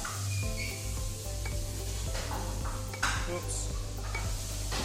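A pasta bake mixture being stirred in a pot, soft scraping and clinking of utensil against cookware under a low steady hum, with a brief spoken exclamation partway through.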